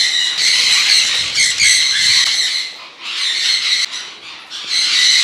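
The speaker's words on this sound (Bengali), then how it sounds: "10-20 জোড়া সান কনিও রাখলে ভাই এত চিল্লাবে" Sun conure parrots screeching loudly and close, harsh shrill calls overlapping in repeated bursts with brief dips between them.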